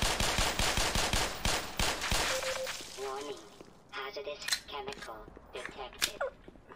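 Gunfire from a weapon in the video game Black Mesa, a rapid burst of repeated shots up close followed by scattered single cracks, with someone talking over part of it.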